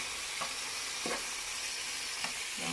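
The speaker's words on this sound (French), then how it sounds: "Je vais laisser cuire mes lardons jusqu'à devenir un tout petit peu doré." Lardons frying in a pan for a potato omelette, a steady sizzle throughout with a few soft stirring scrapes at intervals.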